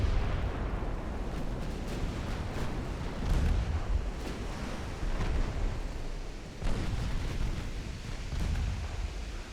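Heavy naval gunfire in a 1904-era battleship battle game, a battleship firing armor-piercing shells: deep booming blasts rolling over a constant rumbling roar, several heavier thuds standing out around the middle and later, with no voices.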